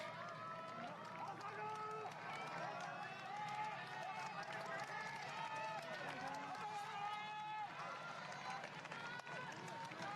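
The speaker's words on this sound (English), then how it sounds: "as you can hear the crowds, these smaller than usual but still massive crowds lining the course, calling out his name" Large crowds line a marathon course in Tokyo, shouting and calling out to a passing runner. Their voices form a continuous dense layer of cheering and chatter at steady loudness throughout.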